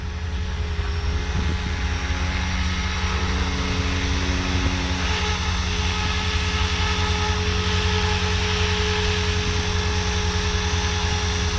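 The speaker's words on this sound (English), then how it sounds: "So this is my second day of flying this helicopter" A Blade 500 3D RC helicopter in flight gives a loud, steady high-pitched whine of rotor and motor, constant throughout with no voices.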